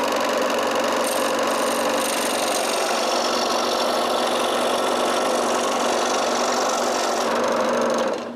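A power saw cuts a thin hardwood strip into a spring shape for a wooden padlock, a loud steady mechanical whine with fine rapid buzzing that runs unbroken and cuts off at the end.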